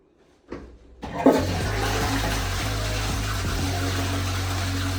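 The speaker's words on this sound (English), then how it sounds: "here's the toilet. You want to know how to flush it?" A hotel toilet at Disneyland Paris flushes close by with a sharp click, then a strong, steady rush of water and a low pump-like hum for several seconds.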